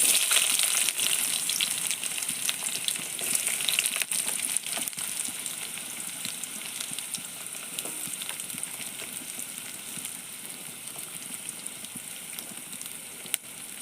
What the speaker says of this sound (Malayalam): കടുക് പൊട്ടിയതിന് ശേഷം ആഡ് ചെയ്യാനുള്ള ഇൻഗ്രീഡിയൻ്റ് ആണ് നമ്മുടെ ചെറിയ ഉള്ളി നമുക്കിത് ഇതിലേക്ക് ആഡ് ചെയ്ത് കൊടുക്കാം